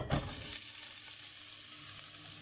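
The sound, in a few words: vegetables sautéing in bourguignon cooking oil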